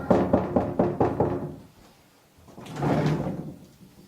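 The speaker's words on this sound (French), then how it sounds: "Tape à la porte, non?" Several sharp knocks on a door come in a quick rhythmic burst, then pause before a second, more diffuse thud or rustle follows; close and fairly loud with no talking.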